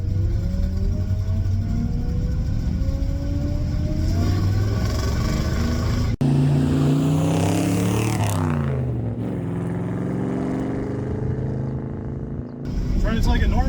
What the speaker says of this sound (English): It's running like a normal truck now.